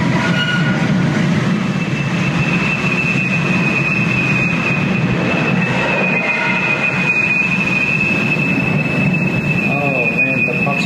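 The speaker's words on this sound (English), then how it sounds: "I need to stop this train." A train runs loudly along the track during a derailment, its wheels falling apart, with a steady rumble, a sustained high metallic wheel squeal and scattered clanks throughout.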